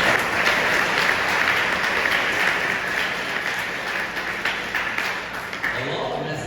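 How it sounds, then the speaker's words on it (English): Sustained audience applause at a school investiture ceremony in Ghana, a loud, dense wash of clapping that holds steady before tapering slightly at the end. "I think everyone really deserves a big round of applause."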